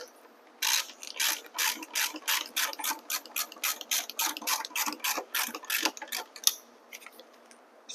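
Rapid, steady clicking of a ratchet tightening the axle nut to 55 Nm on a Talaria Sting electric dirt bike wheel, close and crisp, in quick regular bursts with no talking.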